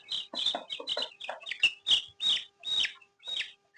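Chickens on a poultry farm cluck in a quick series of close, sharp calls, the first bunched together and the later ones spaced and drawn out, with no voices.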